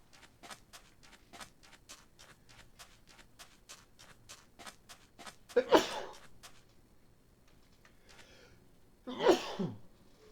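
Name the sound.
sneeze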